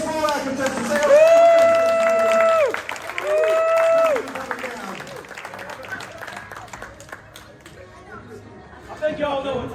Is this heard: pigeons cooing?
no